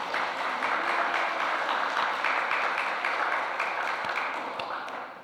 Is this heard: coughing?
no